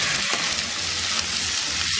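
Cut potatoes hit browned onions frying in a pan, producing a continuous loud, close sizzle that holds steady throughout with no talking.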